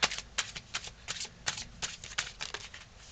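Slippery tarot cards riffled and shuffled by hand in quick repeated bursts, a crisp close flutter of card edges with short pauses between, no talk.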